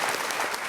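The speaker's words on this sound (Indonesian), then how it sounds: "Kasih tepuk tangan untuk Mas." Brief burst of audience applause at an Indonesian live show, a dense steady patter of many hands, loud and close with no pauses.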